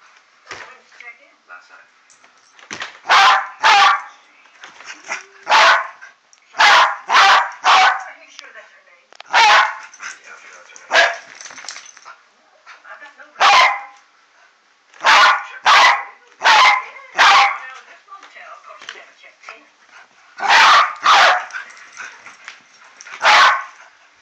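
A beagle barks at a camera in loud, close clusters of two to four sharp barks, with brief gaps between the volleys over about twenty seconds.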